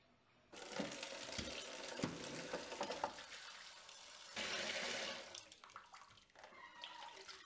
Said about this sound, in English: I rubbed like this for 5 minutes, changed the water, then washed for another 5 minutes